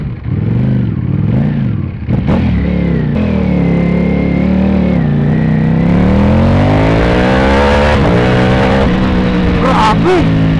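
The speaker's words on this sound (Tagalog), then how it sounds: "Pero kapag ni-rev mo siya mid to high, bumubukas yung lahat ng makina, so nagiging V4 siya." A motorcycle engine revs hard from mid to high rpm, running as a V2 at first and opening up to V4, the loud, close note climbing in pitch with a few short throttle blips and rising sweeps.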